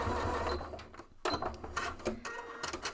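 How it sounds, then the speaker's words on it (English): A sewing machine stitching a row across the raw fabric ends of a backpack interior, running in short, close, uneven bursts with clicks and brief pauses. "I'm going to go ahead and run a row of stitching across those raw ends"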